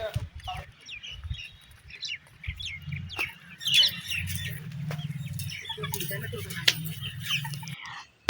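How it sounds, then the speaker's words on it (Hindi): Hens clucking softly in a steady low chatter, with scattered sharper calls and rustling, fairly close and continuous. "तो गाइस ये मुर्गियां हैं"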